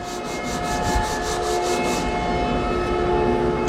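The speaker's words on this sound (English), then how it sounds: "we're gonna keep sanding. Push a little harder maybe, but keep that pressure even across there" Steady abrasive rubbing of sandpaper by hand on a wooden picture frame, continuous and close, with a rhythmic back-and-forth scrape early on under a constant background hum.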